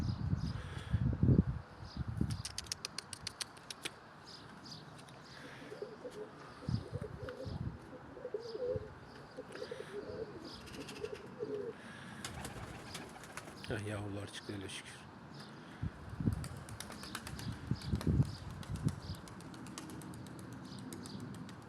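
Young tumbler pigeons coo softly, with occasional bursts of wing flapping and rustling, while someone talks over them outdoors.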